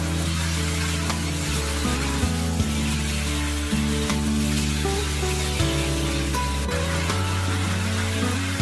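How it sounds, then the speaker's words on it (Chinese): Beef stir-frying in a wok with scallion, ginger and spices, a steady sizzling hiss with faint scraping, heard alone and close, while a background tune plays throughout. "炒香之后把切好的牛肉加进来翻炒，炒5分钟左右，炒干水分"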